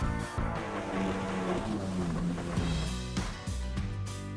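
Boat engines hum steadily in a low, continuous drone at the back of a vessel near Catalina Island, with a faint tonal whine riding above and a few soft bumps toward the end; no one speaks.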